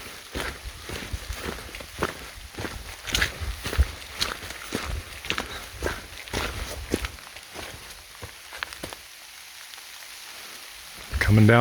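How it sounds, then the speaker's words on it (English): Heavy rain falling steadily around on a foggy mountain trail in the Great Smoky Mountains, mixed with a regular crunch of footsteps on the wet trail, until the steps stop and only rain remains. "Rain is pouring again."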